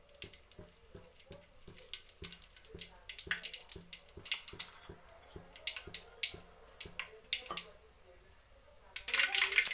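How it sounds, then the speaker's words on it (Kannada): Mustard seeds spluttering in hot oil in a pan, popping with dense, rapid, uneven crackles and sharp snaps up close, with a faint background hiss. "ಸಾಸಿವೆ ಸಿಡಿತಿದೆ."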